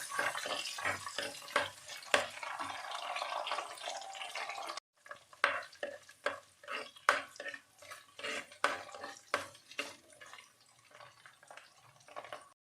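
Whole peeled garlic cloves sautéing in a pan for garlic kuzhambu, with a soft sizzle and repeated clinks and scrapes of a spoon against the pan, close and fairly quiet with no voices.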